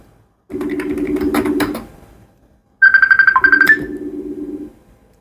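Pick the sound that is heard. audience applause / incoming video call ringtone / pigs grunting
incoming video call ringtone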